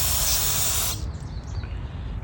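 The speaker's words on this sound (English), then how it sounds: "you just want to spray all that out" Compressed spray cleaner is blasted through the screen of an Echo SRM2400 string trimmer carburetor, giving a loud, close hiss for about a second that then cuts off into quieter background noise.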